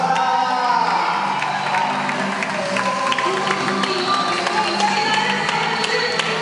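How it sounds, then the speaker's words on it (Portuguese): An audience at a youth and teen spiritual retreat parade applauds and cheers, a dense wash of clapping with scattered whoops and shouts that carries on steadily, with voices mixed into the crowd. "Uma salva de palmas."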